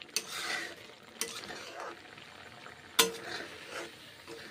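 Mung and masoor dal with poppy seeds being stirred in a pot, soft scraping and shuffling with a few sharp clinks of the spoon against the metal, close up and moderately quiet, no voices.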